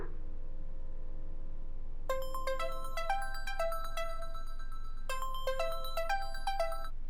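A bright electronic phone ringtone plays a repeating melodic phrase twice over a low background hum, fairly close and with no one speaking.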